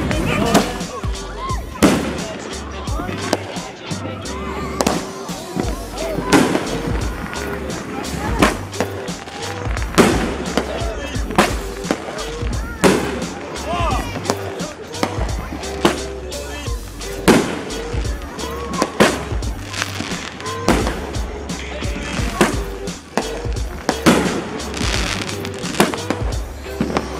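Fourth of July fireworks and firecrackers pop and bang repeatedly in irregular bursts on a neighborhood block, sharp loud cracks mixed with people talking and shouting nearby.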